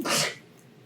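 A person sneezes once, a short sharp burst at the start that quickly fades to quiet room sound.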